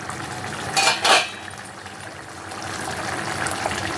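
A metal lid comes off a pot of boiling potatoes with two quick, close clanks, then a steady soft hiss and bubbling of the simmering water carries on.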